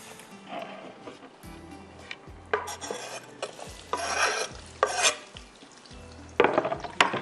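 Onions browning in oil in a pan on the stovetop during biryani preparation, with steady sizzling and frying under repeated scraping stirs of a spoon against the pan, close and fairly loud.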